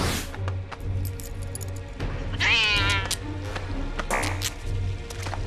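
Cartoon cat meowing in an animated school comedy, a couple of drawn-out, rising-and-falling yowls over a steady background hum and soft music, fairly close and clear with no talking.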